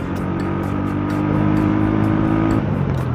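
Honda Wave 100 motorcycle with a tuned camshaft and stock carburetor, engine droning steadily and loudly while being ridden on a busy road, pitch holding fairly constant throughout.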